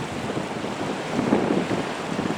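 Small waves washing onto the shore at Churston under a side-on wind, a continuous broadband wash of surf and gusty wind noise that swells briefly midway, with no talk.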